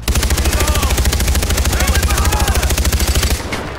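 Rapid automatic gunfire in Far Cry 4, a loud, sustained, evenly spaced burst of shots that runs for several seconds and then cuts off abruptly.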